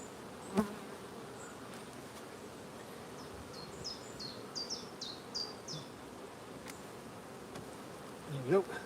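Honeybees buzz around an open beehive in an apiary with a soft, steady hum. A few chirping bird calls and occasional bumps sound faintly above it, with no voices.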